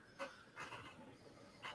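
A dog pants in a kennel with rows of dog runs, giving a few breathy bursts spaced across under two seconds, fairly close and moderately loud.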